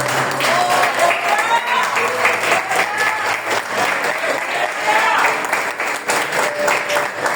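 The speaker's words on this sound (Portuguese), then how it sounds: "Aplauda Ele, que é para Ele é mais forte." A church congregation bursts into sustained, loud applause that keeps going with steady clapping, while a voice speaks faintly underneath.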